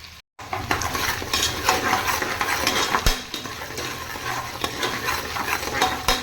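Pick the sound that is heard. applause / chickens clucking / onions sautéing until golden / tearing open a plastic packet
onions sautéing until golden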